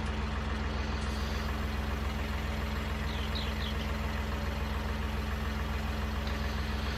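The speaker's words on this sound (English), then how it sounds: "Push our tractor forward a little bit." Steady idling tractor engine in Farming Simulator 19, a continuous low rumble with a constant hum that holds level throughout, with no voices over it.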